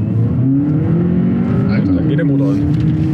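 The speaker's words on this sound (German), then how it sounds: "Guck, wir fahren Elektro an." A VW Golf GTE plug-in hybrid, a widebody apprentice project car, pulling away on electric power gives a low, steady hum with a faint rising motor whine, heard from inside the cabin.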